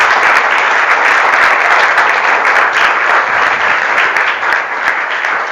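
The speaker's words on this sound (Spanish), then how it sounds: "¿qué te parece si le damos un fuerte aplauso" A church congregation gives loud, dense, continuous applause, a thick roar of many hands close by that holds steady and only eases slightly near the end.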